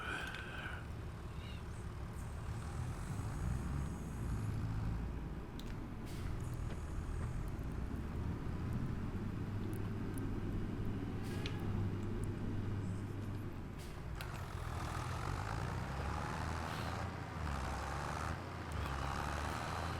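A small farm tractor engine running in a farming simulation game, heard as a steady low mechanical rumble that persists throughout at moderate distance, with faint intermittent clicks and a slight shift in tone partway through.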